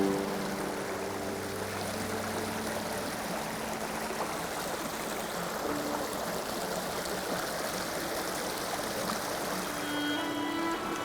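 A shallow, fast-flowing stream that is home to young sea trout gives a continuous babbling rush at moderate level. The sound stays steady across the whole stretch, with faint tonal hum beneath and no speech.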